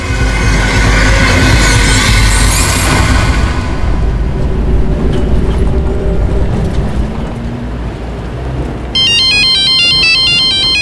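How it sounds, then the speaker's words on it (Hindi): A phone ringtone starts near the end, a bright repeating electronic tone that cuts through a loud, steady rumble of rolling train-like noise. "रुको पापा, मैं आपको फोन उठा के देती हूँ।"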